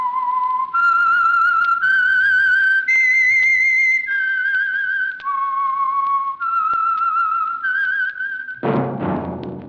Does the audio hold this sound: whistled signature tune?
yes